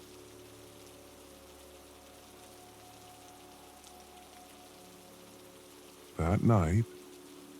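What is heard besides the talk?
soft rain falling on a roof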